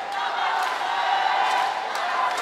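A large arena crowd cheers and roars steadily throughout a collegiate women's volleyball semifinal, a dense, continuous wash of voices with no pauses.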